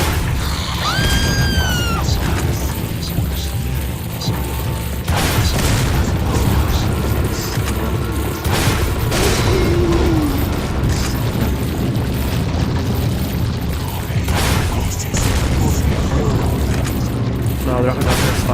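Rocket launcher blasts in Resident Evil 4 on PS4, with heavy booms and crashing impacts recurring through a dense, loud game mix while a voice talks over much of it.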